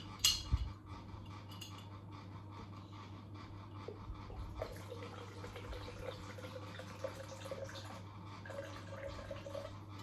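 Water pours into a shaker for a protein shake at home after a workout, a faint steady trickle with a slowly rising fill tone, heard alone in a quiet room.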